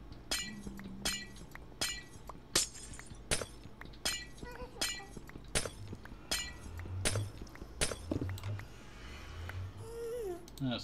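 Glass blocks shattering in the Minecraft video game, a series of sharp, crisp breaking clinks repeating about once a second, with low game sounds and a faint creature-like call underneath.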